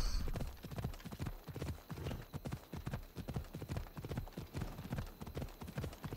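A horse's hooves clip-clop steadily along a path in an Assassin's Creed video game, a close, even rhythm of many hoofbeats throughout with no voices over them.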